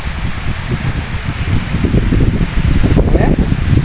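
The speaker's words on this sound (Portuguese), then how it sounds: "É chuva, não é brincadeira." Heavy rain pouring down onto a house's roof tiles, a steady dense hiss and patter that swells slightly louder toward the end, filling the whole sound alone.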